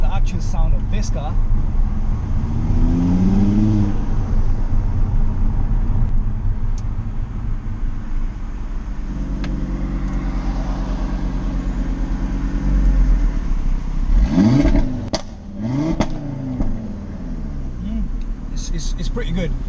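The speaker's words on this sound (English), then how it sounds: "Now let's hear the actual sound of this car." An Audi RS3 8V with stage 2 engine and exhaust upgrades rumbles loudly, with several sharp revs rising and falling, pops, and a sustained idle between them, recorded close by with a voice talking at times.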